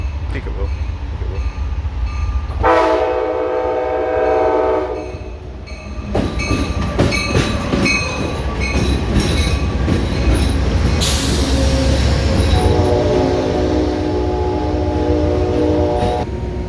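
A passenger train pulls into a station along the Coast to Coast Trail. The rumble is loud and close, a horn sounds, and wheels and brakes squeal as it slows, with people talking nearby.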